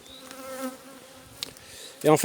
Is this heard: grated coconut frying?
no